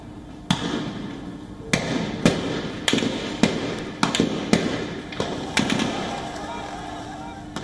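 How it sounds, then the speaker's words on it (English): Police gunfire aimed at protesters at a funeral in Myanmar cracks out as a dozen or so sharp, fairly distant shots at irregular intervals over a low background rumble. "The visuals show police both in uniforms and plain clothes opening fire on the protesters."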